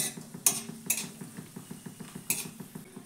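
Nuts frying in ghee in a wok give a soft, steady sizzle under repeated light clinks and scrapes of a metal spoon against the pan, with several sharper knocks.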